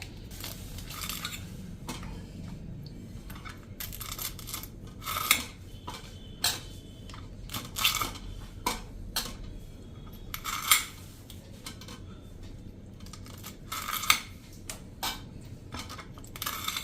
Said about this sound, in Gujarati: તમારે આમ સિંગ પકડવાની છે અને આમ દાણા કાઢવાના છે.